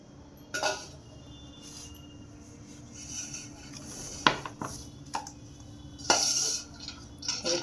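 Flour, spring onion and garlic-ginger paste are stirred together in a bowl for cabbage manchurian, with scattered clinks and scrapes of a utensil against the bowl.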